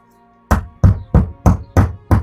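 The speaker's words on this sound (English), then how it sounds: "hammer it in, and that's it" Six sharp, evenly spaced hammer blows drive an insert into wood close by after a brief silence, each a solid knock with a short ring.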